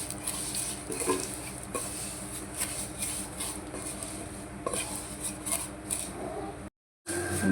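Ingredients for sheer khurma frying in ghee, a constant bright sizzle with repeated scraping and clinking of a spoon against the pan, briefly cutting out near the end.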